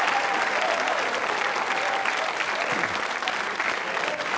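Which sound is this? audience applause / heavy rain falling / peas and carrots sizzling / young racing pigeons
audience applause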